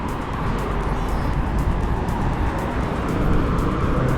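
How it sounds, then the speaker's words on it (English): Street traffic on a walk in Jamaica makes a steady, broad roar of passing vehicles that runs continuously for a few seconds, with no talking. "I know it's noisy because the traffic"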